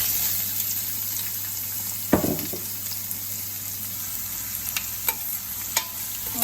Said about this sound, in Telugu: ఆనియన్స్ ఫ్రై అవ్వాలి.